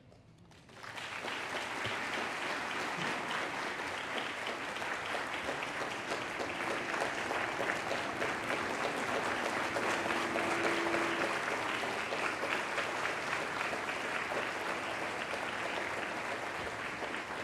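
Sustained audience applause at an awards ceremony, a dense steady wash of clapping that starts abruptly and holds at an even, full level throughout.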